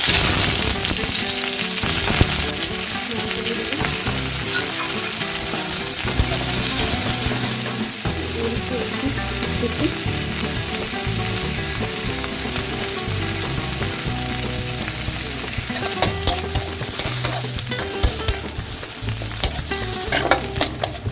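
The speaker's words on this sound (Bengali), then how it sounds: "পেঁয়াজটা একটু ভাজা ভাজা হয়েছে" Chopped onions fry in oil ahead of red amaranth greens, a steady dense sizzle with frequent stirring scrapes that run the whole time, close and fairly loud, with no talking.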